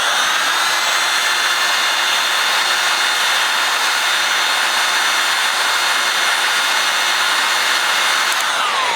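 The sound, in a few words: heat gun heating stuck gun screws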